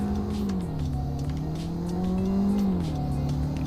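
A 2022 Honda Civic Si sedan driving in the Roblox game Greenville, its engine droning steadily with a rising and falling pitch as it accelerates and shifts, close and continuous, with no speech.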